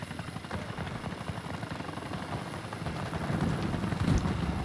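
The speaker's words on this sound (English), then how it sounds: "Holy shit, that's a helicopter!" A helicopter in the video game Battlefield 2042 thumps with a rapid, steady rotor beat that grows louder toward the end, as if passing close, with a low rumble beneath and no voices.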